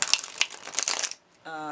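Tarot cards are shuffled close by in a quick series of papery, crackling bursts that stop after about a second, followed by a brief voice.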